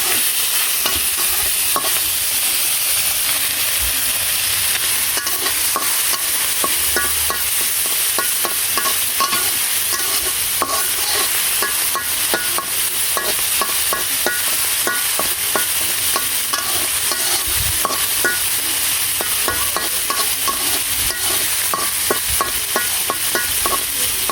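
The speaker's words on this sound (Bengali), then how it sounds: "তো তার জন্য যে চিংড়ি মাছগুলো ভেজে নিই, ছোটো ছোটো চিংড়ি মাছ।" Small shrimp fry in a pan with a loud, dense, unbroken sizzle and rapid popping, the crackle holding steady from start to finish with occasional soft knocks underneath.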